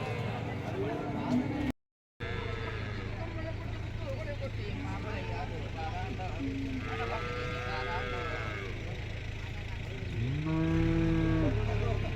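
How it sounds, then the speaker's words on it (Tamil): Kangeyam cattle moo at the Erode cow market, several long lowing calls rising over constant market bustle and background voices, with a loud, close moo near the end. "இந்த காலை பார்த்தீங்கன்னா காங்கேயம் காலைங்க இது"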